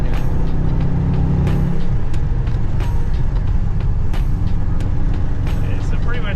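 A Subaru with a 2.0 engine and TD04 turbo drives along, a loud, steady road and engine rumble filling the whole stretch with occasional ticks and clicks, while people talk in the cabin over it.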